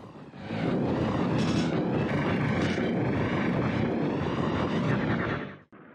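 A steady, loud jet-like engine roar from an Arwing boosting in the SNES game Star Fox, holding constant for about five seconds before cutting off abruptly.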